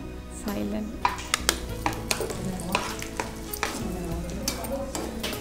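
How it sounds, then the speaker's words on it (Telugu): Cashews and raisins fry in ghee in a pan, with a steady sizzle and repeated clinks of a spoon stirring against the metal, heard close up with faint voices in the background. "సో నెయ్యిలో బాగా కాజు కిస్మిస్ చక్కగా ఫ్రై అయిపోతున్నాయి"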